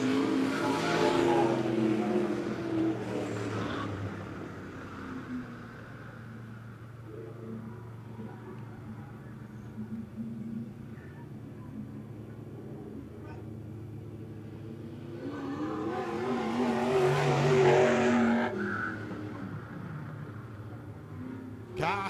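USRA stock cars race around the Monett Motor Speedway oval, their engines a steady roar that swells to a loud pass near the end, with an announcer talking over the noise.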